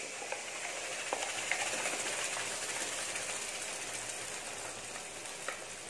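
Ground masala sizzling and frying with sautéed onions in a pan for Tamil crab curry, a steady close hiss with faint occasional pops and no talk.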